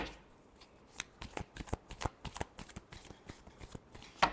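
Tarot cards shuffled by hand close up, a run of quick papery riffles and slaps in uneven bursts, ending with one sharper snap.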